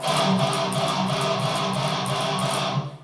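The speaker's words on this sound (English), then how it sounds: "So this is what it sounds like, muting a little bit above the bridge" A steady distorted electric guitar riff with chugging notes muted a little above the bridge pickup, played at a constant driving rhythm with no talking.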